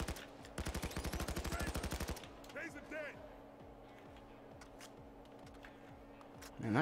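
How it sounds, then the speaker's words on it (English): Rapid automatic gunfire in the video game Payday 2: a loud, fast burst of shots for about two seconds, followed by quieter game sounds and scattered effects, with a voice speaking over it. "Suppressing fire!"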